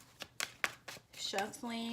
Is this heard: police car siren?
no